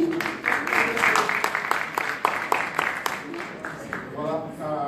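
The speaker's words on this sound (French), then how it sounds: "On applaudit." Audience clapping at a youth civic-engagement tech event, a dense burst of applause that rises, holds and thins out, with a voice speaking toward the end.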